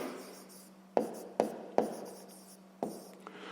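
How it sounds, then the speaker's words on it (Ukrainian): A pen writes in a notebook, soft scratching strokes punctuated by four sharp taps as the pen meets the page, quiet and close with no voices. "Отже, записуємо якщо."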